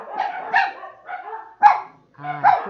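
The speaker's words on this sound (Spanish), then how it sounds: "Justo están ladrando los perros" Dogs bark in a series of short, sharp yaps and barks with brief gaps between them, moderately close, with one whining, higher call near the end.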